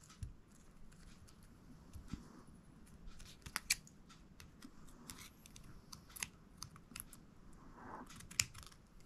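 Scissors snip through craft material for a vintage ruler project with quiet, irregular crisp cuts, some in quick clusters and some spaced apart, heard close against a faint room background.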